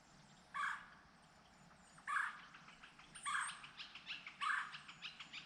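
Northern flicker woodpeckers call at a distance in four separate bursts, the last ones breaking into quick repeated notes, over faint background noise.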